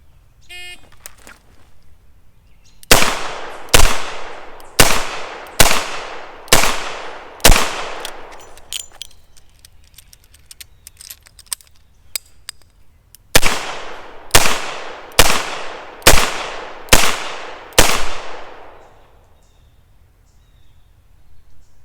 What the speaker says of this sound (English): I have 25 seconds to draw and fire 12 rounds